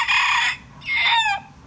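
A rooster crows a loud, close cock-a-doodle-doo in two long bursts with a short gap between them, with no other sound around it.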